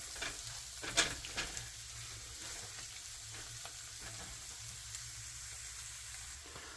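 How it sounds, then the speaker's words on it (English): Chana masala frying and being stirred in a pan, a steady close sizzle with a few louder scraping stirs near the start, no talking. "I'm going to go ahead and give this another quick stir. Move everything around."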